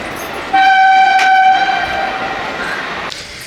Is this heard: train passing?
yes